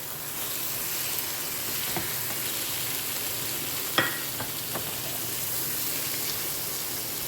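Masala sautéing in oil for a Bengali pabda fish curry with brinjal, giving a steady close sizzle with a few faint clicks of a utensil stirring.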